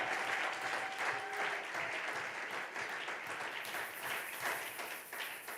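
A church congregation applauds to acclaim God, a steady wash of many hands clapping that continues at an even level throughout.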